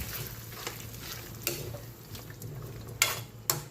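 Cheese being stirred into a simmering pan dish, soft sizzling and stirring with a handful of distinct metallic clanks of a spoon on the pot, fairly quiet and close.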